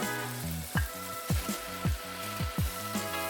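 Chicken and mushrooms frying in an oiled pan, with a steady sizzle broken by several sharp pops and spatters at irregular intervals, close and clear, with no talking.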